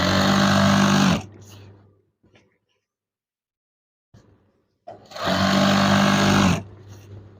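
A sewing machine stitches a curtain in two loud, close bursts of steady motor whir and needle clatter, each about a second or more long, separated by near silence with faint handling noises.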